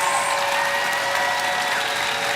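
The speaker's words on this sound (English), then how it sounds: "would you please give them a huge round of applause?" An audience at a MINECON 2013 Minecraft panel applauds in a dense, continuous wash of clapping that holds steady throughout.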